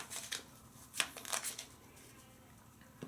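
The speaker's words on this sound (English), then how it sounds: "the person to your right shuffles" Soft, close riffling of playing cards being shuffled by a player at a tabletop game, a few quick bursts of card flutter over quiet room noise.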